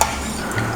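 A spoon stirs grated nutmeg through a pot of grilled rib soup, a short burst of scraping and liquid swish, close and fairly loud.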